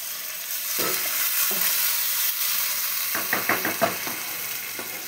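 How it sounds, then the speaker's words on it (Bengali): Soybean chunks with spices sauté in a pan under a constant sizzle, with a couple of spaced scrapes and then a quick run of rhythmic stirring strokes near the end. "মশলা কষিয়ে সোয়াবিন দিয়ে দিয়েছি, একটু জল দিয়ে আবার কষাবো।"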